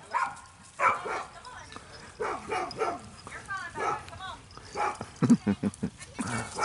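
Young golden puppies yip, bark and whimper in short bursts, close by and fairly faint, with people talking over and between the barks.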